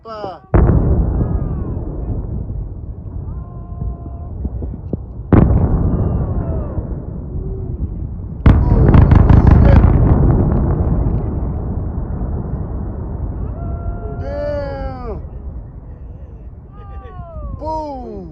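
Demolition charges implode a power plant's stacks and Unit 3 precipitators in a series of heavy booming blasts spaced several seconds apart, each followed by a long rumbling roar that fades slowly. People talk and exclaim between and over the blasts.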